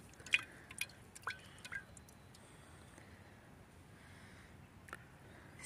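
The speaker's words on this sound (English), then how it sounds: "And it is dripping still a fair amount." Used motor oil drips from a coffee pot in a few quiet, separate drops, several close together at first and then one more after a pause.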